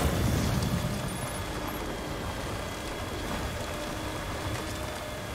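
Steady rain falls in the video game Death Stranding, a continuous even hiss of rain on surfaces throughout, with no talk.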